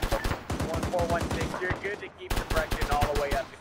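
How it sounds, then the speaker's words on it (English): Rapid bursts of suppressing gunfire from a military operation, dense regular reports hammering on through most of the stretch with a brief gap, while radio-style voices talk over the shooting. "We're gonna keep our suppressing fire."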